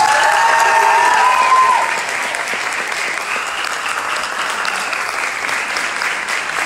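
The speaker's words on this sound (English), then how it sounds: "Give a round of applause to Mr. Thomas McClure." A crowd claps loudly, then the applause settles into steady, slightly softer clapping that continues to the end.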